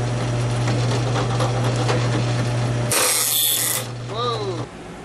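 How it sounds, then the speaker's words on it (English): A drill press boring small number 44 holes in a titanium folding-knife handle, with a steady motor hum and grinding, ratcheting bite that cuts off abruptly midway, followed by a brief loud burst and squeal. "So we're gonna go over to the drill press and drill some number 44 holes."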